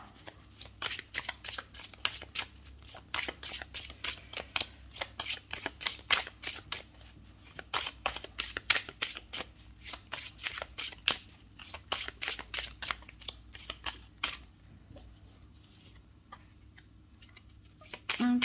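Tarot-style cards for a weekly reading being shuffled by hand close up: rapid, dense runs of crisp riffling flicks and slaps in bursts, carrying on for most of the stretch before thinning out near the end, with no talking.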